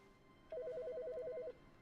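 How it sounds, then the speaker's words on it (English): A single ring from a telephone in The Stanley Parable, a rapid warbling electronic trill lasting about a second, clear and moderately loud over a low background hum, with no voices. "there's a phone ringing"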